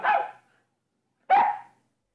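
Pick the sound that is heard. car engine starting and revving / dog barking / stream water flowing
dog barking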